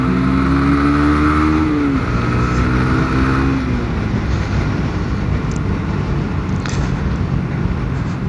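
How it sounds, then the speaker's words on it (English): A Yamaha YBR 125 motorcycle with its standard exhaust runs loud and close, its engine note rising in a rev then dropping and settling into a steady rumble, with no talk over it. "I do think it's got a decent sound to it, the YBR"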